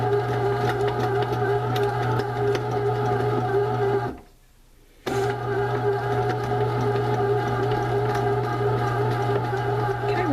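A bread machine kneads raisin bread dough with a steady motor hum and rhythmic mechanical churning, loud and continuous, cutting out briefly for about a second midway before resuming.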